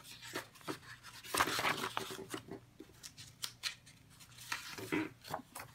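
Scissors snip through cheap copy paper while setting up a planner, quiet close-up crunching cuts in an uneven rhythm with soft paper rustling between strokes.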